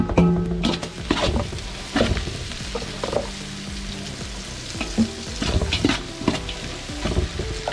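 Green chillies fry with onions with a crackling sizzle in a pan, punctuated by the clatter and scrape of a spoon stirring them.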